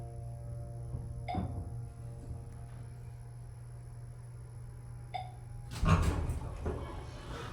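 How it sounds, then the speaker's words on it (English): A faulty chime on a Montgomery Vector hydraulic elevator gives two short, thin chirps a few seconds apart over a steady hum, then a muffled clunk near the end. "Something wrong with that chime. You could hear it chirping."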